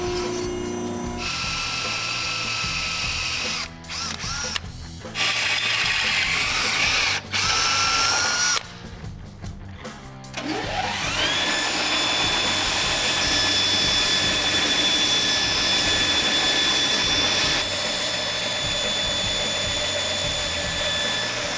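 Steel flat stock being cut for a fire nozzle bracket during a classic Camaro build, a loud sustained grinding whine with brief pauses partway through before the cut resumes steadily at close range.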